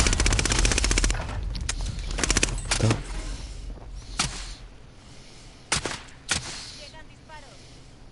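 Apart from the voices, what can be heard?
gunfire in the video game Warzone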